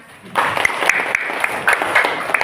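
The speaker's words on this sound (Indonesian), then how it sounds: "Beri tepuk tangan." Classroom applause from students after a correct answer about Pancasila in an Indonesian civics lesson, sparse, uneven clapping from a small group, close and moderately loud, with a faint voice underneath.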